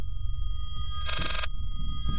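An old telephone rings in the horror game Layers of Fear, a short burst of bright electric bell ringing over a low rumbling drone and faint steady tones, with the ring starting again at the end.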